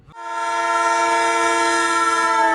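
A passenger train on an Indian railway sounds a long, steady horn blast that starts abruptly and holds loud and unbroken throughout, close by.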